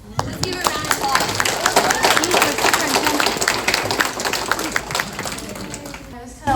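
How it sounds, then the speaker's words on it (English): A school-district audience applauds a student speaker at a community meeting in Fresno, with dense sustained clapping throughout and crowd noise and some voices mixed in, fading slightly before ending. "Let's give her a round of applause."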